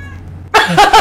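A female cat meows indoors, giving a short, close, fairly loud cry in two quick pulses after a moment of near silence.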